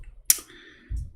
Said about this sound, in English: look at the screen, look, I'm typing in English.